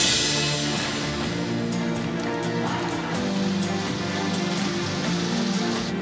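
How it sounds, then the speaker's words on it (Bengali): Heavy morning rain pouring steadily in South Bengal during a monsoon low-pressure spell, a dense continuous hiss of drops drumming on surfaces, loud and unbroken with no voices. "সকাল সকাল ঝমঝমিয়ে বৃষ্টি।"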